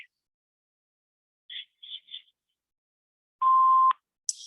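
An answering machine sounds its single steady half-second beep after the voicemail greeting, loud and clean, preceded by a few brief soft chirps and followed by a short high blip.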